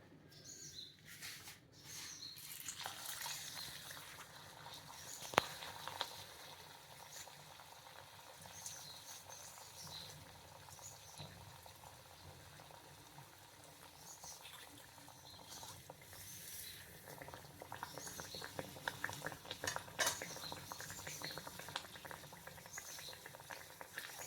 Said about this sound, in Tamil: இப்போ இதை ஆயிலில் ஃப்ரை பண்ணி எடுத்துடலாம்